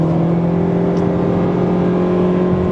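Steady engine drone from a 2025 Toyota Prius Limited with a 4-cylinder and eCVT, heard from inside the cabin at highway speed: a constant low hum with road noise, loud and even throughout, with no talking.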